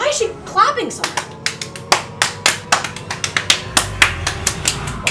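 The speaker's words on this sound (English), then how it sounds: "Why is she clapping so much?" A woman claps over and over, a long run of sharp, loud, evenly spaced hand claps in a fast steady rhythm, with a brief voice-like sound at the start.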